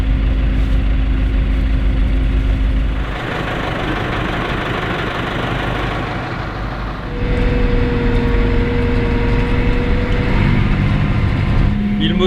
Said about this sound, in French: Un tracteur ça s'entend loin, mais alors petit tracteur.